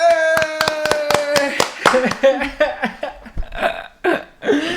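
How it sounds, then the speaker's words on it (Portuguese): A few people clap sharply for a podcast guest, crisp hand claps over a sustained musical tone at first, then giving way to voices talking and laughing with scattered claps. "Uma salva de palmas pra ela."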